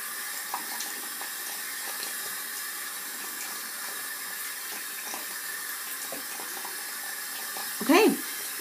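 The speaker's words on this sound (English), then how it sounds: "So when I'm rinsing my face, I'm also doing my hands." Tap water runs steadily into a sink while someone rinses their face and hands, a faint continuous stream with a short splash near the end.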